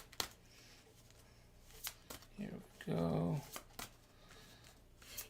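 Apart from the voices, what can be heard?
shuffling a deck of cards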